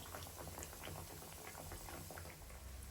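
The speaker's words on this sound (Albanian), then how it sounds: "Tash I skuqim nga njëra anë dhe më pas I kthejmë nga ana tjetër." Dough fritters (llokuma) fry in hot oil with a dense, steady bubbling crackle that stays continuous and fairly quiet, with no voices over it.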